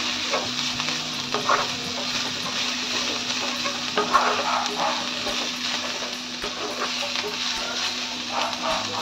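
Vegetables being stir-fried in a pan for a quick tiffin dish, a continuous close sizzle and crackle with soft scraping from stirring and a faint hum behind it.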